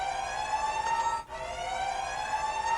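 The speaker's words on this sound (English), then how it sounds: "The siren inside of your ship starts going off." A ship's siren alarm blares inside the vessel in the video game Lethal Company, a loud steady electronic tone with a brief dip midway, sounding alone.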